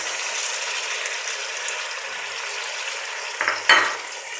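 Chopped tomatoes and green chillies drop into onions frying golden in a pan for spiced qeema, giving a steady broadband sizzle with a louder burst and clatter near the end as they land; no talking.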